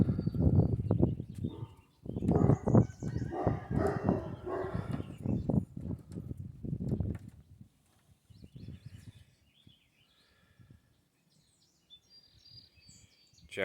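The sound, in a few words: birds around a freshly painted deck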